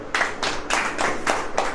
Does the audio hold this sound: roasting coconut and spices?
no